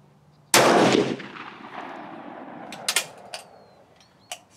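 A Swiss Model 1940 K31 rifle fires a round from a reloaded case outdoors at a range: one loud, close gunshot with a long decaying echo, then a few metallic clicks and clacks from the bolt.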